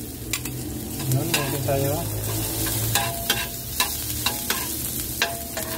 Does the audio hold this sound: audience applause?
no